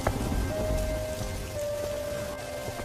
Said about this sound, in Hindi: चल लखन, इस बारिश का कोई भरोसा नहीं, ये रुके या ना भी रुके